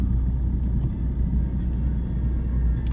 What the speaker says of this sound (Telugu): ట్రాఫిక్ జామ్ ఉంది ఇక్కడ.